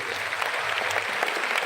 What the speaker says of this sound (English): Please clap hands for yourself.